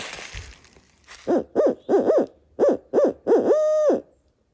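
A voice imitates an owl with a rhythmic series of hoots, close and clear, ending in one longer drawn-out hoot, used as a turkey-hunting locator call in the woods.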